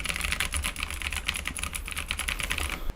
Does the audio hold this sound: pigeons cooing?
no